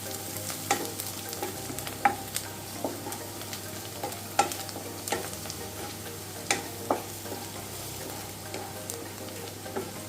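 Hotel-style beef fry with garam masala and Kashmiri chili powder is stirred in a pan. A steady close sizzle runs throughout, broken by regular scraping stirs.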